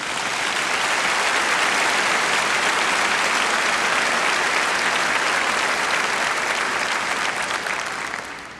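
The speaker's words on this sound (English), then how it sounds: "Applaud it." An audience breaks into loud, sustained applause, many hands clapping densely and evenly for several seconds before easing off at the end.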